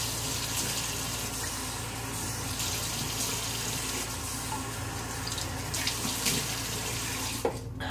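Hot water pours steadily from a bathroom sink faucet during shaving, a constant close rushing splash that continues without a break, with a brief clunk near the end.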